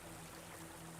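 Steady burbling trickle of a water fountain on a terrace in Enshrouded, constant and close with a faint low hum beneath, no voices.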